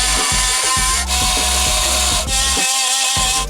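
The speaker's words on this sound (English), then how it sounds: "to cut this, I'm going to use an oscillating tool with a Diablo bimetal blade." An oscillating multi-tool with a Diablo bimetal blade cuts a soft aluminum part during an Ecotec engine swap into a Miata. It makes a loud, steady, close-up buzzing drone with brief dips, and no talk is heard.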